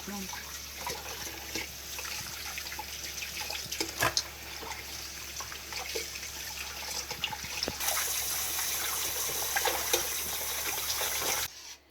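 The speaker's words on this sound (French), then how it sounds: "I need to wash my fish." Water runs steadily from a tap while red snapper is washed in a kitchen sink, a continuous hiss with small splashes and drips that grows slightly brighter near the end before cutting off.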